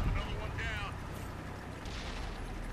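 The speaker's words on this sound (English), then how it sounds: "I get hit by artillery, little fucker" Artillery shell striking a tank in World of Tanks on console: a deep boom opens, then rumbling engine-like noise and a brief metallic whine over continuing low roar, with a voice talking across it.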